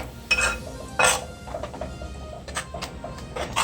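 Coconut burfi mixture being stirred in a pan, giving scattered metallic clinks and scrapes of a spoon against the pan, with two sharper knocks near the start and softer taps later, close by and with no talk.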